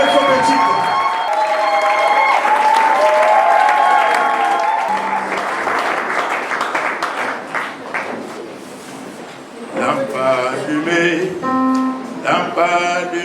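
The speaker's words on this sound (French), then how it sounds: "je veux qu'on acclame très fort et qu'on soit debout pour acclamer très fort pour l'homme de Dieu" A standing crowd at a French-speaking church retreat applauding and cheering loudly, dense clapping mixed with shouts and a musical tone, fading partway before voices and music swell again.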